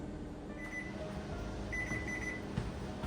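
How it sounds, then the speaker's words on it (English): A kitchen timer goes off while orange marmalade is water-bath canned in an Instant Pot, giving a few faint high electronic beeps over a steady low background hum. "our 5-minute timer has gone off"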